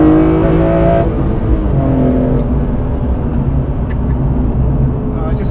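A BMW M3 CSL accelerates with a loud, continuous induction roar and engine drone heard from inside the car, rising in pitch and then settling, while people talk over it.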